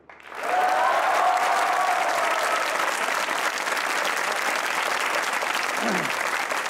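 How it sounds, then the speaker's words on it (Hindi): A large studio audience bursts into loud, sustained applause that rises within half a second and stays thick and even for several seconds, with a few voices and whistle-like cries mixed in. "अगर आप वो लोग हैं जो दूसरों को खुश देखना चाहते हैं तो बजाइए तालियां"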